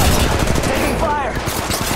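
Rapid automatic gunfire in the Apex Legends battle royale game, a dense loud burst of shots throughout, with a game voice line over the firing.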